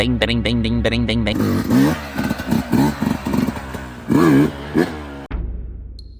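A small off-road competition motorcycle revs loudly and sharply in repeated bursts, its engine note rising and falling close by, then cutting off near the end and settling into a steady idle.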